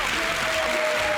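An audience in a television studio applauds a competing team, a brief dense burst of clapping heard alone.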